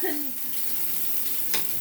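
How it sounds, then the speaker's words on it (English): Ground turkey sizzling in a frying pan, a quiet steady hiss and crackle close up, with a brief voice at the start. "You hear that sizzle?"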